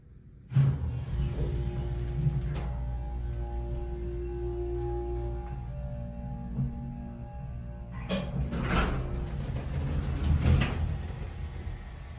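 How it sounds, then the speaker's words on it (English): An original Houston hydraulic elevator's motor runs with a steady low hum and drone, while clunks and door sounds rise over it partway through. "All right, listen to this motor."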